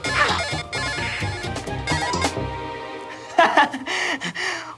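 A mobile phone plays a melodic, electronic ringtone close by, its repeating phrases filling the moment before a brief pause and a louder resumption, with background music.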